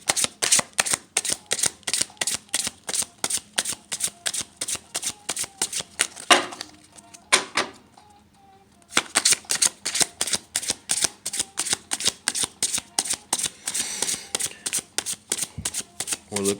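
Tarot cards being shuffled close up in a rapid, steady riffling rhythm, the patter broken by a brief quiet pause partway through before resuming, with no talk over it.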